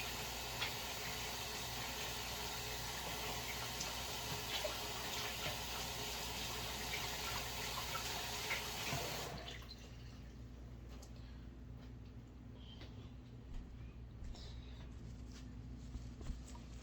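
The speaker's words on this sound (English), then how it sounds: "I always wash my hands again." A kitchen water tap runs in a steady, close hiss during handwashing for about nine seconds, then shuts off, leaving a quiet room with faint clatter.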